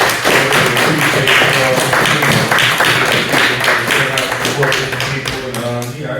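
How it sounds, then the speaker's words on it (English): An audience at a community mental health discussion claps and applauds steadily, loud and close, with dense overlapping claps, voices mixed in, and the applause tapering off toward the end. "Please just get a round of applause for everybody, here for coming out there."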